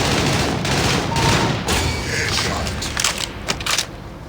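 Sustained bursts of rapid gunfire from the Counter-Strike video game, loud and dense, rattling almost continuously with brief gaps between volleys and little talk.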